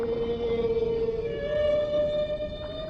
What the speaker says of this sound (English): The male humpback sings to attract a mate, and she might hear his invitation hundreds of kilometers away.